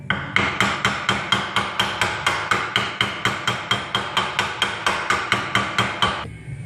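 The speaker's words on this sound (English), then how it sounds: "start tapping it on that bearing" Steady hammer taps drive a rear differential bearing into place on a Pontiac Vibe / Toyota Matrix AWD, about twenty sharp metallic strikes at an even, quick rhythm, close and loud with no talk.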